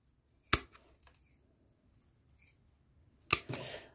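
Pruning shears snip through seedling stems in two sharp, close cuts: one crisp snap early, then another a few seconds later followed by a brief rustle of foliage, with near silence between.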